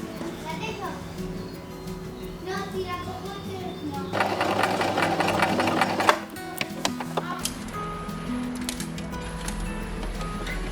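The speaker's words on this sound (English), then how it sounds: "I temporarily attached the ribbons to the bodice with a zigzag stitch." A sewing machine runs a zigzag stitch to temporarily attach ribbons to the bodice of a summer cosplay dress, whirring steadily in bursts with a louder, faster run midway, while a voice is heard faintly in the background.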